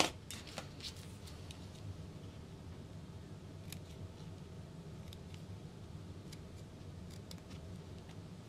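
Scissors cut through fabric for a large tote bag, giving a handful of quick close snips and short crisp cutting sounds over a quiet room, with no voices.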